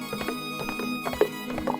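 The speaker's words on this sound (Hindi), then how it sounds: "जमींदार के घोड़ों की टापे दूर होते ही नदी का किनारा फिर से शांत हो गया।" Horses' hooves clop in an uneven rhythm on the ground as the animals ride off, fairly faint against a steady background hum.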